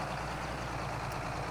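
An old Allis-Chalmers farm tractor engine runs steadily on a Missouri farm, a low continuous rumble heard close and alone.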